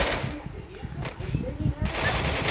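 Rapid automatic gunfire from the Free Fire video game in a 4v4 match, bursts of shots close and loud, overlapping with excited talk from players throughout.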